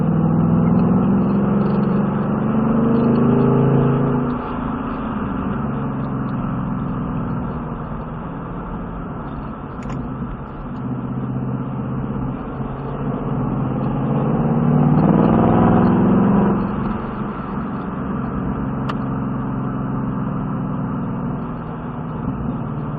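A race car engine holds a steady drone around a track as the driver eases the throttle, swelling and relaxing in a few long waves, loud and alone without speech.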